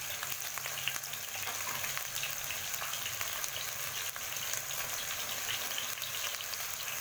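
Chicken pieces sear in a hot pan for an Egyptian crispy chicken dish, giving a dense, steady hiss and crackle that holds without pause, with no voices.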